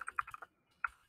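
Fingers type on a computer keyboard in a quick burst of about six soft, close keystrokes, a short pause, then one more key press.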